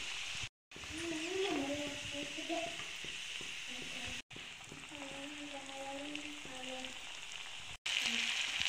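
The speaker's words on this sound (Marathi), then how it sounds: "धीमी आचेवर मस्त असे खसखसीत भाजून घ्यायचे। लाल रंग येईपर्यंत भाजून घ्यायचे।" Bakarwadi crisping in oil over a low flame makes a constant soft sizzle and bubbling. A voice talks over it throughout, and the clip cuts out briefly a few times.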